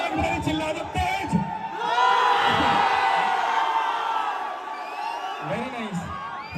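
A concert crowd at a show in Danapur, Patna, at night, shouting and cheering loudly in a sustained roar, with scattered whoops and yells rising over the mass of voices.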